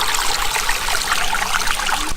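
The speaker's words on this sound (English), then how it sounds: "you can see this is a river which brings the hot water to the onsen" A river carrying hot spring water to an onsen rushes and trickles steadily, a constant bright wash of flowing water heard from a bridge, close and fairly loud, with no voices.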